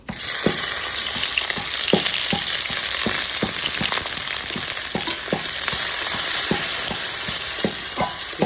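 Onions frying in oil with dried chillies and cumin in a home Bengali kitchen, a dense continuous sizzle broken by regular stirring knocks and scrapes about twice a second, no talking.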